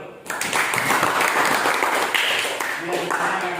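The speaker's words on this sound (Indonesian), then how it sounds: "Ada tepuk tangan dulu." A classroom audience claps in a brief burst of applause lasting a few seconds, dense and close, with a voice or two mixed in.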